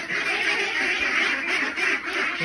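Ducks quack on a duck farm, a dense, continuous chorus of close, loud quacking.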